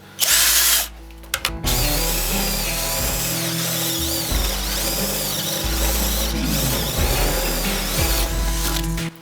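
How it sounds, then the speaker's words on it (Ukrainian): A Ronix cordless drill driver bores into wood with a spade bit, giving a loud, close whirring grind. The motor starts, briefly pauses, then runs steadily with shifting load for several seconds. "Ну що, Ронікс, давайте попробуємо тепер на парових сверлах, як працює."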